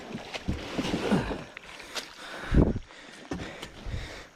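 A canoe carrying trapped beavers in its front is turned around in a narrow swamp beaver run, with hollow hull bumps and thuds, water swishes and light wind, in uneven bursts close by, with no talking.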